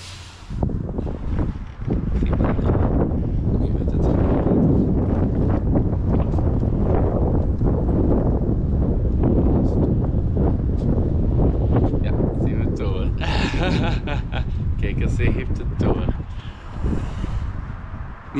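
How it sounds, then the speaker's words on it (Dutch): Strong wind roars and buffets the microphone outdoors almost without pause, loud and rumbling, with a voice talking underneath at times. "Want het is blijkbaar precies winderig"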